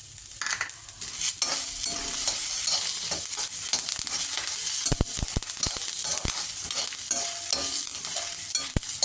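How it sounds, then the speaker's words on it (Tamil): Shallots and curry leaves fry in oil for arachuvitta sambar, with a steady near sizzle and repeated sharp scrapes and clacks of a spoon stirring against the pan. "இது வறுத்தரைச்ச சாம்பார்ன்றதுனால இந்த வறுத்தரைச்சி இது எல்லாத்தையும் போட்டு வறுக்கணும்."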